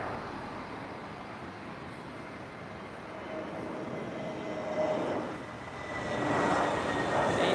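Brussels Airlines Airbus A320neo airliner at Lisbon Airport, a steady, moderately distant engine rumble with a faint whine that swells toward the end, alone without talk.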